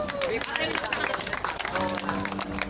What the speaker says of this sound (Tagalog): Palakpakan po natin silang lahat.